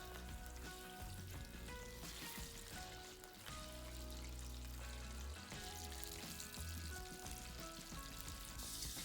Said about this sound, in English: So, do the frying in parts.